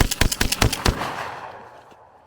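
A Revolution Armory Impact R4 gun fires a rapid string of about nine sharp cracks as its magazine empties, then the sound tails off into a fading hiss and quiet.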